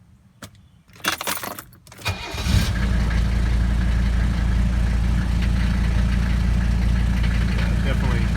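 Keys jangle and rattle in the ignition of a 1985 Mercedes 300D before the diesel engine cranks and catches, then settles into a steady, low, clattering idle while the car sits jacked up.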